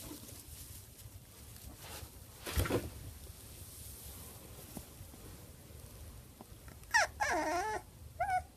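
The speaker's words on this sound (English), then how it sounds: "This dog was born with sad face." A dog whimpering quietly, with a faint high whine early on and a cluster of thin, wavering whimpers near the end over a soft, low background hush.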